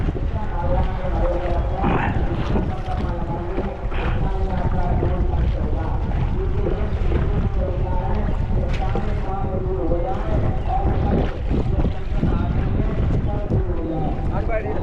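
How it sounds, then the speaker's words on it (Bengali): A small fishing boat on the Ganga river rides strong waves in heavy wind, with a constant loud rush of wind buffeting and water slapping throughout, and indistinct voices underneath. "ঢেউ হচ্ছে, হাওয়া হচ্ছে, তার মধ্যে আমরা চলে এসেছি মাছ শিকার করতে। প্রচণ্ড ঢেউ, হাওয়া।"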